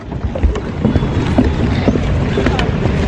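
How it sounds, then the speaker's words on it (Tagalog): A speedboat engine drones steadily up close during Boracay island hopping in light rain, with rushing water and wind buffeting the microphone throughout. "Sasakay muna tayo ng speedboat."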